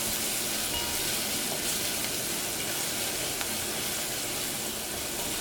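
Onions sautéing in a pan give a steady, close, even sizzle that holds unbroken throughout with no speech.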